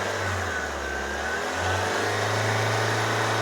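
A Toyota Corolla engine with a P0171 lean fault revs up to around 3,000 RPM from idle. A steady mid-pitched hum rises in pitch and holds, close and fairly loud, with no talking.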